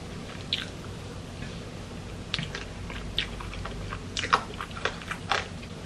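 Crispy gochu basasak fried chicken being bitten and chewed up close, with a run of sharp crunches and softer mastication sounds spread over several seconds, no talking.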